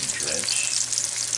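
Breaded chicken drumsticks fry in hot oil with a close, steady, bright sizzle and crackle that holds evenly throughout.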